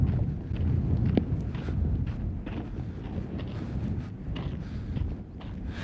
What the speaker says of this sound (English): it got windy here all of a sudden